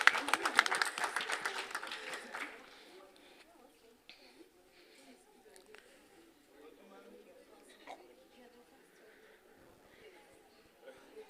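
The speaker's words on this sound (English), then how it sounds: "Wacha tupigia Atlanta UDA chapter makofi." An audience at the launch of the UDA Atlanta chapter breaks into a short burst of clapping that fades over a couple of seconds, and scattered talk and crowd noise follow.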